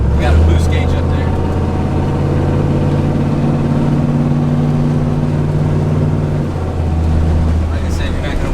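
An old diesel truck engine rumbles steadily under loud cabin chatter, holding a deep, continuous drone for most of the run before easing briefly and picking back up near the end.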